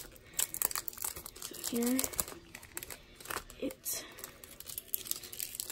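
Cardboard packaging of a Legend of Zelda item being cut and torn open: crinkling, scraping rips close by, in short irregular bursts under casual talk.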